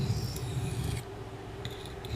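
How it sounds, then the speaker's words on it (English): A knife blade is drawn across a sharpening stone in a few close, gritty rasping strokes, each lasting about a second, with no talking. "want to come and sharpen a knife"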